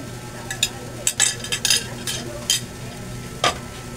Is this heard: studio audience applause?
no